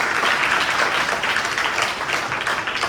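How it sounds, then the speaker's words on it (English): Students at a school general knowledge quiz competition receive a short round of applause, a thick, steady patter of many hands clapping at close range, fading slightly toward the end. "give them a round of applause"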